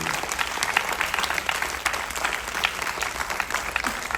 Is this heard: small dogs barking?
no